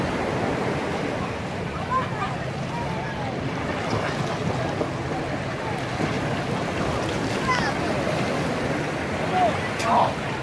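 Ocean surf on a Florida beach rolls and washes in steadily, with a broad rushing wash and wind buffeting the microphone throughout, and a swell building near the end.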